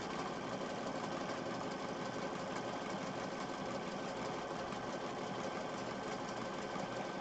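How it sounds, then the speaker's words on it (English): A sewing machine stitches around purple rectangles, giving a steady, even mechanical whirr that runs unbroken and fairly quiet throughout, with no talking. "put the needle down, rotate, and then start stitching again"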